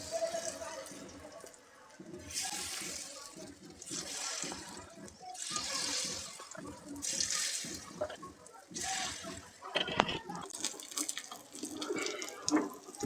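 Rava appe batter dropped spoon by spoon into hot oil in an appe pan, giving a steady crackling, hissing sizzle that swells in bursts as each portion goes in, close and fairly loud.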